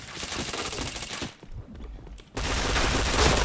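Rapid video game gunfire scoring headshots, dense continuous bursts of automatic fire, loud and close, dropping out briefly in the middle before resuming at full intensity, with no talk.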